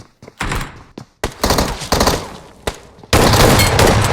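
Bursts of gunfire in a video game shooter, several short sharp volleys separated by brief gaps, ending in a long sustained burst of rapid fire.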